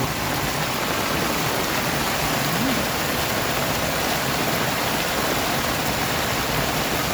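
Torrential storm rain roars without a break, a thick, uniform downpour mixed with rushing runoff water, loud and close throughout.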